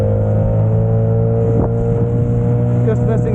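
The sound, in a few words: Saturn SD330 inflatable boat motor running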